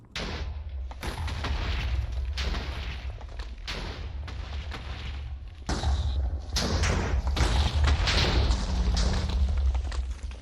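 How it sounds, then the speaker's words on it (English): TNT blowing up in a Minecraft hardcore world: a run of deep, booming thuds and sharp blasts, several in quick succession, loud and close, with the second half denser and more continuous. "It's surprising how effective this little amount of TNT is."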